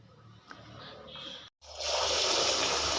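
Water pours into a vessel holding sabudana and idli rava for washing, a steady rushing splash that starts loud after a short pause and continues evenly, preceded by faint handling noises.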